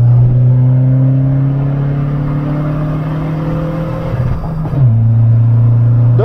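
A hybrid-turbo VW Polo 1.6 TDI diesel accelerates hard, its loud close engine drone climbing steadily in pitch, dropping briefly at a gear change, then pulling again.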